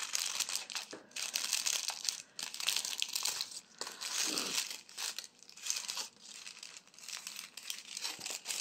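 Scissors cutting a circle out of paper for a handmade paper flower, giving close, continuous crinkling and rustling with short snips and pauses, alone without talk.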